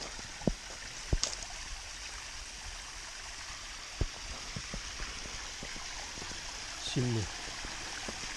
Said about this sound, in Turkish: Yukarıdan damlıyorlar sular.